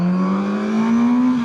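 Kawasaki Z900RS four-cylinder motorcycle with a loud exhaust revving hard, its engine pitch climbing smoothly and steadily, heard up close and alone with no talk.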